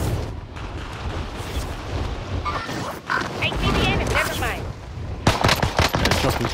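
Heavy video game gunfire in Caldera crackles in rapid bursts and scattered shots, some close and loud, with a player's voice talking over the shooting.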